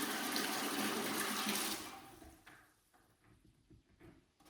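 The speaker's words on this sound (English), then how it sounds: "So that should be flowing deionized water." Deionized water gushes from a spigot on a copper pressure washer setup in a loud, steady rush for about two seconds, then cuts off to faint drips and trickles.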